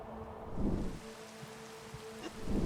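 Steady rain falls in Minecraft with the Simple Weather mod, a soft continuous patter with faint low rumbles and a thin tonal hum underneath, no voices.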